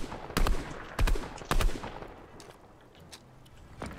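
Gunfire in an arena-mode video game, heard as three loud, closely spaced shot bursts followed by quieter scattered pops and fainter reports, with no talk over them.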